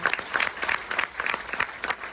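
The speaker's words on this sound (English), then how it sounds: "A big round of applause for our World War II veterans" A crowd aboard a Carnival Jubilee cruise ship claps steadily in sustained applause for World War II veterans, a dense patter of hands at moderate volume.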